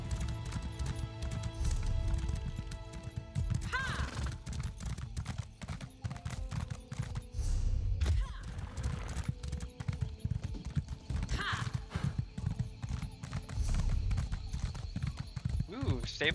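Horses at a stable in Elder Scrolls Online, hooves clip-clopping with occasional whinnies amid game ambience and background music, while someone talks over much of it.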